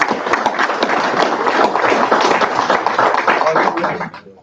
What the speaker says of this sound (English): I think you deserve another round of applause